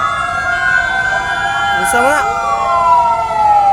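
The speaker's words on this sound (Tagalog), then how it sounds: "Arang kasaba nagsigig wangwang." Emergency vehicle sirens wail along a busy Cebu City street during a fire, a steady loud rising-and-falling tone over traffic noise, with a person briefly speaking partway through.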